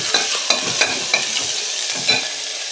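Onion and curry leaves frying in oil in a home kitchen, with a steady close sizzle and scattered stirring scrapes and clinks recurring every half second or so, no talk.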